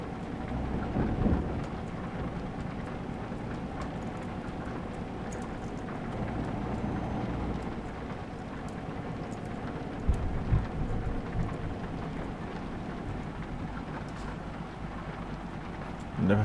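A thunderstorm with steady rain at Bran Castle in Romania, a constant wash of rainfall with low rumbling thunder rolling through and a few sharper cracks near the end.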